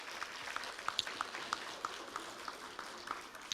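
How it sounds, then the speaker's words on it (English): Audience at an adult education graduation ceremony gives a fairly faint round of applause, scattered claps standing out over a soft, steady crowd wash. "So give yourselves a hand of applause."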